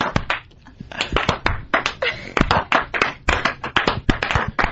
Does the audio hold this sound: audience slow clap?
yes